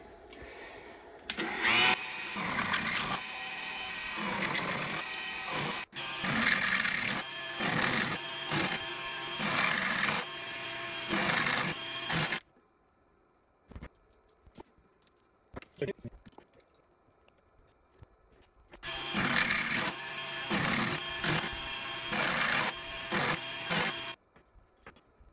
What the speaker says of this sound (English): The last one step I need to do, it's on the mill, just ahead of the screw.